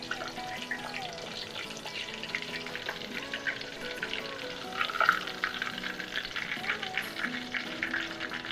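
A pork cutlet for katsudon frying in oil in a pan, a steady crackling sizzle with small pops that rises briefly midway, close and continuous.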